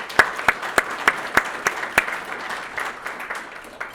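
A business awards event audience claps: several sharp, loud, evenly spaced claps close by stand out at first, then the applause thins into scattered, softer clapping from the wider room.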